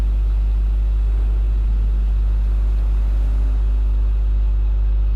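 Truffade Adder supercar in GTA, a 1,100-horsepower million-dollar machine, driving with a loud, steady low engine drone and rumble that holds throughout without break, no talking over it.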